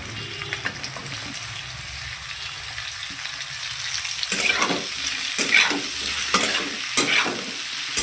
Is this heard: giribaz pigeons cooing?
no